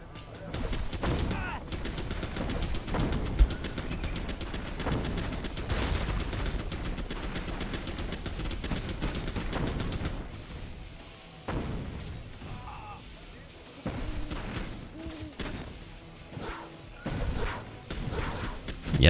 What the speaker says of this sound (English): Minigun working its way around the back